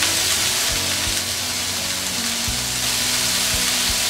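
Chicken shashlik frying on a tawa griddle: a loud, continuous close sizzle with intermittent clicks and scrapes as the skewers are turned, no voices.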